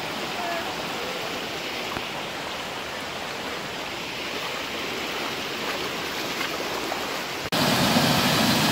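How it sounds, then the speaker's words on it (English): Rushing water at the lower falls of Shupe's Chute, a continuous broadband roar heard up close and alone, jumping abruptly louder just before the end. "Rushing water."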